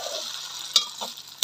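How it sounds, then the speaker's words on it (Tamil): Potato and egg snack frying in hot oil, a steady close sizzle and crackle running throughout, with a couple of brief sharper pops and a soft stir near the end. "இப்போ திருப்பி மற்ற பக்கம் பொரிய விட்டுருக்கோம்"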